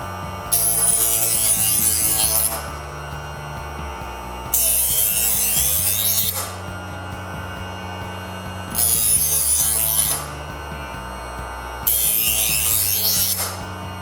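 Knife drawn through a running MFS-4000 electric multi-function sharpener: a steady motor hum underneath, broken by four loud, harsh grinding swipes of about two seconds each at regular intervals.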